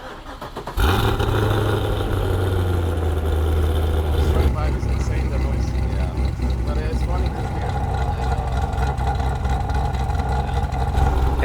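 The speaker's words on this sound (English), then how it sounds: "It has that V8 sound." A big stroker LS3 V8 engine cranks and catches, then settles into a deep, lumpy idle with a throaty rumble, loud and close, with voices talking over it.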